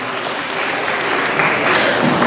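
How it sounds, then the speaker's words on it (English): Studio audience applauding at a live show's season finale, a dense steady patter of clapping that swells slightly toward the end, with no talk over it. "Can we have a round of applause for Jimmy Posner?"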